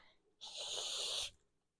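A turtle gives a single sharp, breathy hiss lasting just under a second, close and loud, standing alone against near silence.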